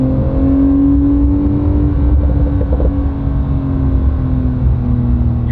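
Engine of a 2022 Porsche 911 Turbo S pulling hard under acceleration on the road, a loud steady drone with a rising tone and constant cabin rumble, no talking.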